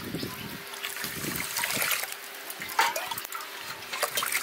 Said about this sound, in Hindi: इस तरीके से पानी भी मैं डाल लेती हूँ।